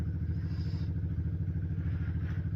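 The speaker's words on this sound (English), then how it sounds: "My son on his four-wheeler making noise in the background." A low, steady engine rumble runs throughout, a four-wheeler ATV idling in the background with a slight rising whine.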